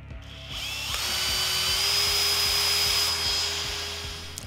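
A Bosch GSB 18V-50 cordless drill whirs up and runs steadily, its motor pitch rising as the screw drives in, ending with a ratcheting clutch buzz.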